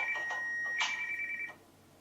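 A smartphone rings when a fitness band's find-phone function triggers it, giving a faint, tinny electronic ringtone with a few repeated tones that stops after about a second and a half.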